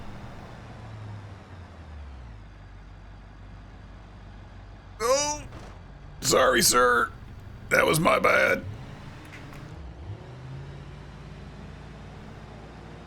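A heavy truck hauling a liquid tanker loaded with water drones along at low engine revs in BeamNG, a steady rumble under someone talking briefly in the middle.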